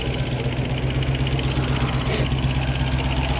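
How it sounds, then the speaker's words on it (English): The engine of a 1972 Range Rover idles steadily during carburetor adjustment, a close, loud, low rumbling throb with a slight dip in speed and no talking. "You hear the idle speed dropping?"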